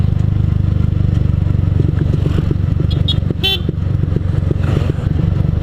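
A clutch motorcycle rolls downhill in fourth gear with a steady, loud engine drone throughout, a brief high whine or horn-like toot partway through, and no talking.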